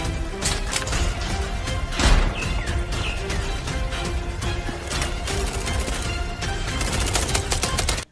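A toy sniper rifle fires a continuous stream of loud, rapid electronic gunshot effects for the whole stretch, a dense clattering burst with one stronger bang near the middle.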